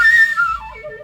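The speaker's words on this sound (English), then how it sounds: "if you flutter the flute notes, it will sound like this exactly" Shrill, high, fluttered flute notes used as eerie sound design, a brief wavering scream-like tone that slides downward and fades within a second, heard alone.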